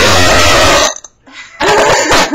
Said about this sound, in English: When you hear belch